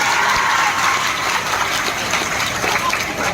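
Dense, steady clapping from an audience at a coaching institute anniversary celebration, a continuous wash of hand claps at even loudness from start to finish.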